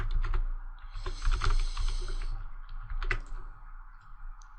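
Clattering keystrokes on a computer keyboard as a short title is typed, in irregular quick bursts with pauses, close and fairly quiet.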